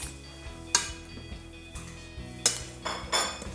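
Couscous stirred in a pot with cutlery, producing sharp metallic clinks and scrapes at irregular intervals over a low background hum, close and fairly loud, without speech.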